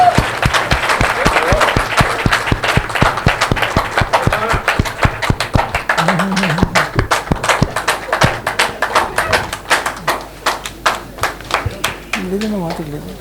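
An indoor audience at a Rajasthan fine arts academy award ceremony claps for an honoree called to the stage, a dense sustained round that thins into scattered individual claps. A voice sounds briefly over the clapping.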